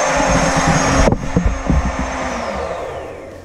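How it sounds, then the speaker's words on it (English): A pump draining a water heater tank whines loudly and steadily as the tank empties, its pitch sliding down while sputtering, gurgling bursts break through near the middle. "when the pump starts to whine like this, that means the tank is empty."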